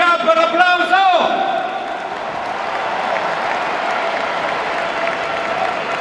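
A stadium crowd at a rugby match applauds a former national player, a broad, distant roar of clapping that follows an announcer's amplified voice and continues steadily on its own.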